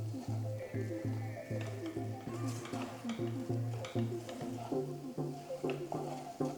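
Grated paneer bhurji being stirred in a kadai, with the spoon scraping and clattering repeatedly against the pan over a steady sizzle and a low constant hum, fairly close.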